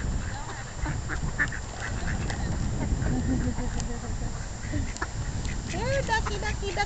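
Ducks at a pond being fed give scattered quacks, clustering toward the end above a constant outdoor rumble.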